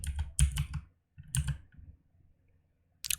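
Keys clatter on a computer keyboard while typing a whisper command into Roblox chat, in quick close bursts of clicks separated by short pauses.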